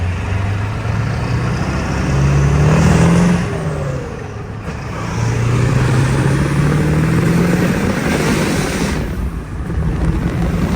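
An intercooled OBS Ford 7.3 diesel truck with heavy boost accelerates in two rising surges, its engine note climbing, dipping between shifts, then climbing again, loud and close.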